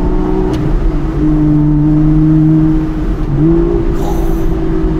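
The V12 of an Aston Martin V12 Vantage S runs at mid revs, a loud, smooth, sustained drone heard from inside the car with the window partly open. Pitch holds steady, dips briefly, then rises again.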